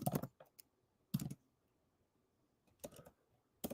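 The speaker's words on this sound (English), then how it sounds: "I didn't get to see it because I was typing." Bursts of computer keyboard typing come in short, irregular clusters of quick clicks separated by silent pauses, close and fairly quiet, with no talking.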